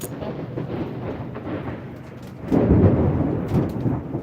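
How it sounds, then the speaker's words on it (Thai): A low rumbling roll of thunder, building and swelling louder midway, with no talk over it. "เสียงฟ้าอย่างบึ้มเลยอย่างบึ้ม เสียงฟ้าลั่น"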